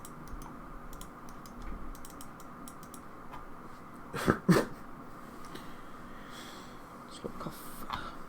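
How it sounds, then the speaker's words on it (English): One or two short coughs in the middle, over a backdrop of faint clicking taps from a computer mouse and keyboard. "Slow cough."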